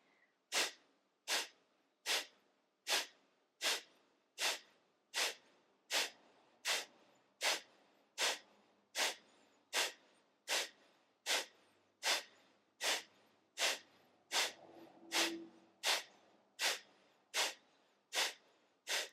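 Rapid breath of fire from a yoga practice: a long run of about two dozen sharp, forceful nasal exhales in a steady quick rhythm. It is close and even throughout, and no one speaks.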